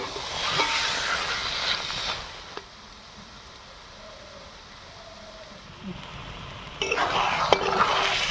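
Taro leaves cooked with prawns in a pan, stirred with a utensil that gives rough scraping and clattering, loud at first, fading to a faint hiss, then returning as louder scraping near the end.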